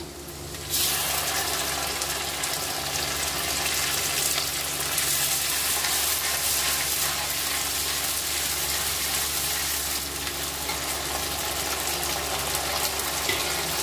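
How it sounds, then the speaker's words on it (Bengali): Whole spices, crushed chui jhal and a ground spice paste hit hot oil for basanti pulao. A loud, continuous close sizzle bursts in just under a second and holds steady throughout, with no talk. "সেই সঙ্গে গোটা মশলা সব ভেজে নেব"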